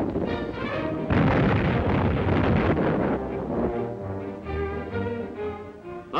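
Anti-aircraft guns firing in a 1941 World War II newsreel, loud booming bursts that come in dense, overlapping volleys with a rumbling roar, heard alone without any narration.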